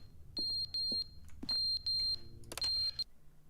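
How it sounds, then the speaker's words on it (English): An alarm rings in The Stanley Parable as a series of shrill, steady electronic beeps in short repeated bursts, loud and close, with brief gaps and a clatter between them. "The alarm's ringing."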